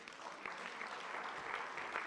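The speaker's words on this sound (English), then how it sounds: "A very big round of applause for" An audience at a Buffalo City welcome address breaks into steady applause, a dense wash of many hands clapping at moderate distance.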